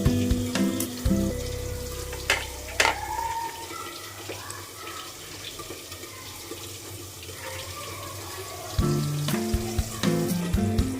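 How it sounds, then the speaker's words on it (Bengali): Small bacha fish fry in hot oil, giving a loud, crackling sizzle near at hand, with scattered pops, a low rumble and occasional clanks of utensils. No one speaks. "মাছগুলো আমি তেলে দিয়ে দিয়েছি।"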